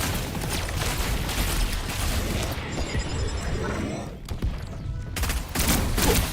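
Rapid, continuous gunfire in a sci-fi shooter game, loud dense volleys with booming impacts, briefly dropping away before heavy firing resumes near the end.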